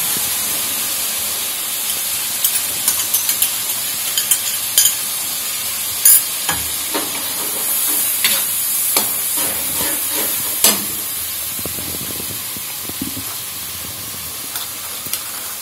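Spices stirred into macaroni masala frying in a pan with kasuri methi and Maggi masala, a loud continuous sizzle and hiss broken by sharp scraping clicks of the spoon, no voices.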